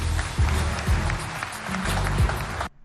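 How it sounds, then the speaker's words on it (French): A studio audience applauds on a Chadian television variety show, a dense, steady wash of clapping with a few heavy thumps underneath, stopping abruptly at the end. "Sous vos applaudissements, s'il vous plaît."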